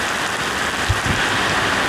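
Steady rain pouring in Vietnam, a loud, dense hiss of drops hitting surfaces, continuous throughout with a couple of brief low thumps partway through.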